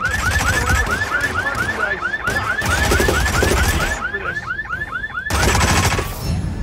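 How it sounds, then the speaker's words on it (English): Rapid machine gun fire in the Hitman video game, a fast steady burst running for several seconds with brief breaks, loud and close, alongside repeating chirping, siren-like tones. "Ah, I finally had a machine gun."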